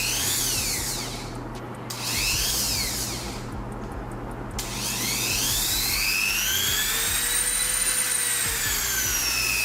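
A small high-speed rotary tool whines steadily, pitch sweeping up and down as it speeds and slows, with brief pauses between runs.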